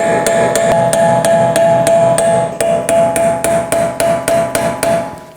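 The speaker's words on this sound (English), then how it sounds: "Now I'm going to take a punch and hammer and hit along the axle in the center divot" Sharp metallic hammer blows drive a punch against the center of a CV axle shaft on a 2018-2024 Chevrolet Equinox 1.5L rear hub, about twenty ringing strikes, steady at first, then spaced and slowing, loud and close.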